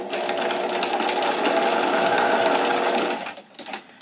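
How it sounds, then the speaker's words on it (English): Sewing machine running a steady, close, continuous seam on a two-layer vinyl pouch for about three seconds, then stopping with a few faint handling sounds. "And then I'm gonna sew right here, 1/4 inch or 1/2 inch if you want."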